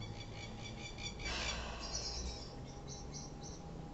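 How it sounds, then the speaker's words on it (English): Masked lapwing plover calling outdoors on a soft rainy day, a run of sharp repeated chirping notes that pause and then return, fairly clear above steady rain and background hiss. "Okay, the first bird there was a plover."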